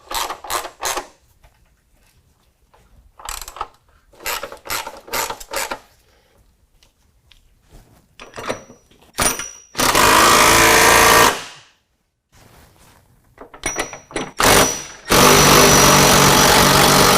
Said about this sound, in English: We're going to go ahead and tighten down our factory M8 bolts and also our body mount bolts.